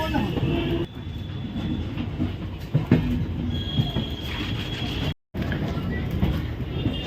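A Howrah–Puri Shatabdi Express train rumbles steadily along the rails with a continuous roar and occasional squeals, loud and close throughout, with some voices faintly underneath.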